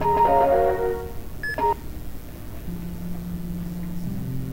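In the visual novel Lucid9, a phone call is answered with a short run of electronic ringing tones, a brief beep, and then a steady low hum on the line.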